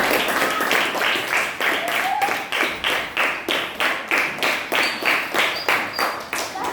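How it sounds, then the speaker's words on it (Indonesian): A classroom group claps in a rhythmic, evenly pulsing round of applause for fellow students. It is loud and close and lasts the whole stretch without fading. "silakan tepuk tangan untuk kawan-kawan"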